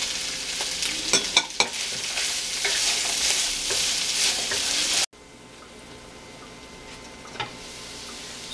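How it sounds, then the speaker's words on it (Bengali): Mixed vegetables and red pepper are stir-fried in a pan for couscous. A busy sizzle runs under sharp scraping clicks from stirring, then the sizzle carries on more softly after an abrupt cut. "সবগুলো ভেজিটেবলস দিয়ে আমি 4-5 মিনিট এটাকে অবশ্য একসাথে নাড়াচাড়া করেছি"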